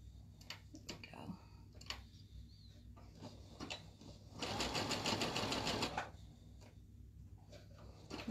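A sewing machine stitches in a burst of about a second and a half, with lighter ticks and clicks of handling before and after, piecing a Cathedral Windows quilt block on a machine that has no lock stitch.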